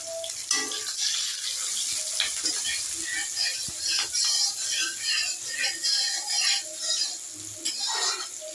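Diced onions fry in leftover pakora oil, a dense close sizzle and hiss with scattered clinks and scraping of stirring throughout, no talking.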